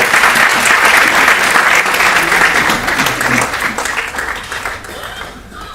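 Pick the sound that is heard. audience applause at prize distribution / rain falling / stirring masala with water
audience applause at prize distribution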